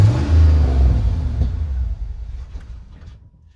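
Ford Bronco engine that needs its carburetor cleaned and stalls below about 1,000 RPM: a loud, deep rumble that swells as it revs, then winds down and fades out toward the end, with no talk.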